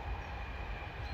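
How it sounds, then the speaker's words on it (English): A distant train rumbles by faintly, a low, steady rolling noise with no voices. "there's another train going by in the distance there."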